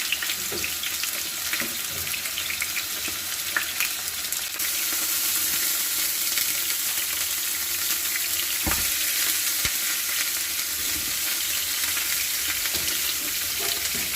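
Steady, loud sizzling of lamb shank searing over high heat in a hot pan, with occasional clinks and scrapes of a utensil; no voices.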